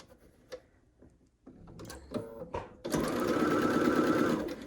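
A sewing machine stitches pieced quilt blocks for a Carpenters Wheel and Stars pattern, starting with a few quiet clicks and short bursts before settling into a loud, steady close whir.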